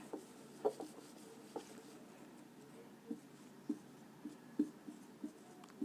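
Chalk or marker writing on a board during a Hindi grammar lesson: a quiet, steady scratching with soft taps spaced through the stretch, close by and heard alone.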